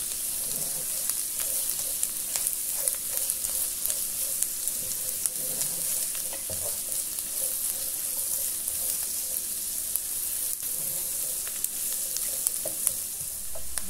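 Carrots sautéing in a Philco Redstone PPE04FS electric pan, a steady bright hiss of frying with scattered soft stirring taps throughout, no voices.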